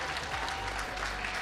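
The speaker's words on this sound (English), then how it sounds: "Can we give another round of applause, please?" A short stretch of steady audience applause at a national ICT summit, dense clapping with a low hum underneath.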